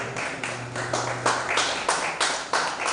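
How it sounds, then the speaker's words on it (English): Applause from participants at a creative writing and reading bootcamp, a few pairs of hands clapping in loose, fairly close bursts, some sharp individual claps standing out. "Please a round of applause for yourselves."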